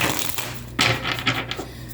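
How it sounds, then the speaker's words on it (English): Tarot cards being shuffled by hand, a run of close, soft papery riffles and taps with a steady low hum running beneath. "Maybe if I could shuffle today"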